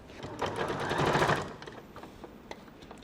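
A sewing machine stitches a sleeve into the armhole of a christening gown bodice, running in a steady mechanical whirr for about a second and a half, then easing off into light intermittent clicks.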